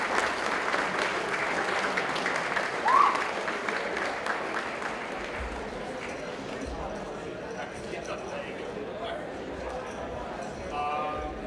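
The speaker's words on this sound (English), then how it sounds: "applause for Lakeland High School" Audience applause for Lakeland High School at an esports awards ceremony: a sustained, fairly close wash of clapping that holds steady for the whole stretch, with crowd noise and a voice over the sound system mixed in.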